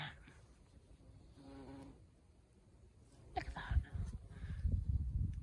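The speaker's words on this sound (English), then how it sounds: "Bees all over this." Bees buzz around flowers in an English country garden, a soft droning hum that swells louder toward the end, with brief rustling in between.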